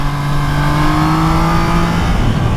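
A 2021 Triumph Trident 660 three-cylinder motorcycle accelerating on a road ride, its engine note a steady, loud drone with tones climbing in pitch throughout, with no talk.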